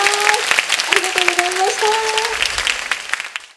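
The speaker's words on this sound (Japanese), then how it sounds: "皆さんもう一度大きな拍手をお願いいたします" Audience at a Korean song contest preliminary in Tokyo claps after a singer's performance, applause layered under a sustained singing or sung tone, fading out near the end.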